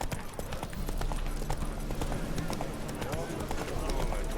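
Hooves of the horse Roach clip-clop at a steady walking rhythm on a road in The Witcher 3, close and clear beneath ongoing character dialogue.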